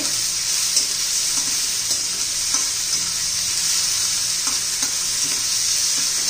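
Chopped tomatoes and vegetables sizzle steadily in a hot pan for Maggi masala noodles, a loud, close, continuous frying hiss with faint stirring scrapes and no voices.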